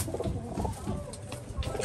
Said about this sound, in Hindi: ये कुछ नीचे कबूतर फिर रहे हैं